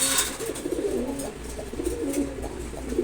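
Pigeons coo steadily in soft, rolling phrases, close and alone with no talk.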